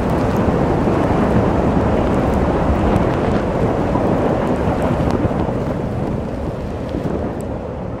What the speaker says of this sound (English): snow's blowing hard